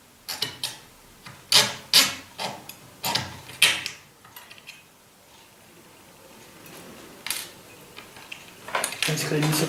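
Etched flat metal coupling hooks for a model pipe wagon filed by hand to round them, a series of short scraping rasps in irregular bursts, close and clear, with quieter pauses between strokes.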